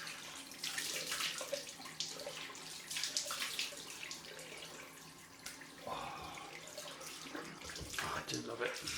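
Cold tap water runs steadily into a sink during a head shave rinse, a broad continuous splashing hiss with a few louder surges and drips, close by.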